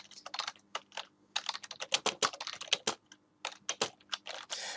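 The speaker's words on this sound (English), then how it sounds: "if I can type today" Rapid clacking on a computer keyboard, close and clear, in quick bursts with short pauses between runs of keystrokes.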